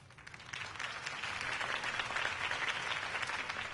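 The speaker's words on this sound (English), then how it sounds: "If only Mr. Wayne, my campaign's largest backer, could have heard that applause" A crowd in the Batman Telltale video game applauds a campaign speech, a dense, steady burst of clapping that swells after a brief quiet start and continues loudly to the end.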